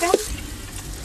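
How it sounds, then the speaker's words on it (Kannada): Chicken and green chillies fry in a pan with a steady close sizzle, framed by two sharp stirring clinks at the start and end. "ಲೈಟಾಗಿ ಬ್ರೌನ್ ಆಗೋ ಥರ ಫ್ರೈ ಮಾಡ್ಕೊತೀನಿ"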